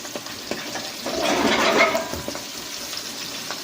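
Boiled pig feet fry in hot oil, a busy sizzle that swells for a couple of seconds and then settles back to a softer crackle.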